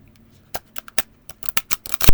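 Stiff new Beyond Lemuria oracle cards being shuffled by hand, crisp papery flicks and slaps in irregular bursts after a quiet start, getting busier toward the end, close up and without talking.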